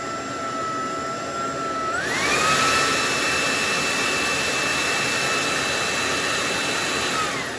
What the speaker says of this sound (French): si on veut mettre le mode turbo pour aspirer le maximum de poussière, il faut rester appuyé sur cette touche tactile